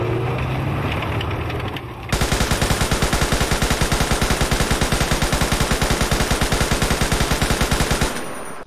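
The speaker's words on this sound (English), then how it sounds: "Oh wait, it has a machine gun." A tank's machine gun in a WW2 eastern front mod game fires one long, continuous burst, loud and close, with evenly spaced rapid shots. A low engine rumble comes first, before the firing starts.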